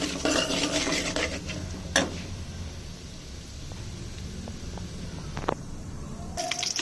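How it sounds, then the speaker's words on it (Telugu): Mustard seeds, cumin and urad dal frying in a pan for brinjal curry, with a soft sizzle under repeated clinks and scrapes of a spoon against the metal pan, plus a couple of sharper knocks. "ఆవాలు, జీలకర్ర, ఉద్దిపప్పు వేసుకోవాలి. మినుములు వేసుకుని బాగా వేపుకోవాలి."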